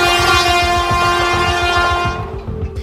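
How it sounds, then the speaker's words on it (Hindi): A train runs along the Patna–Gaya railway line, its loud steady rumble and rhythmic clickety-clack of wheels on rail joints filling the air with sustained tonal hum, fading slightly toward the end. "ये नजारा है पटना गया रेलवे लाइन का, जहां से दिन रात एक्सप्रेस से लेकर लोकल और लोकल से लेकर मालगाड़ियां दौड़ती भागती रहती हैं"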